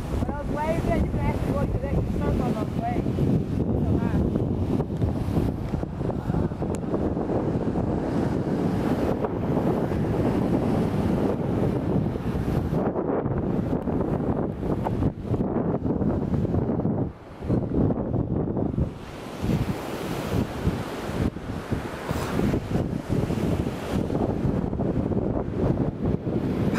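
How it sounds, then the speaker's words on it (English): Ocean surf rolling onto the beach at Coconut Grove Resort in Elmina, Ghana, a steady loud wash of waves heavily buffeted by wind on the microphone for the whole stretch. "Yeah, you can actually surf on those waves."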